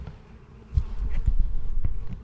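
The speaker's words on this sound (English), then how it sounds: "this is where the bees have decided to make home. Wow. That's a nice swarm right there." Bees swarming at a hive they have moved into, a low continuous buzz with scattered thumps and knocks over it, fairly close and steady throughout.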